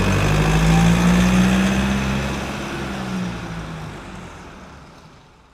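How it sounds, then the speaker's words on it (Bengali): A cartoon-style bus pulls into a bus stand, its engine a low, droning rumble that starts loud and gradually fades and thins out over several seconds, with no voices. "বাসও চলে আসে।"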